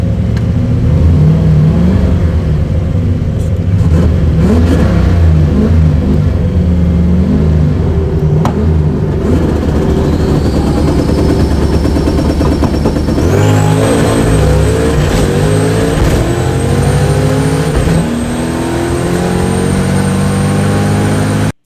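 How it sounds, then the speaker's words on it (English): Street cars with manual transmissions drag racing, engines roaring loud and close, revving hard with rising pitch and audible shifts as they accelerate down the strip. "this is stick shift racing right here"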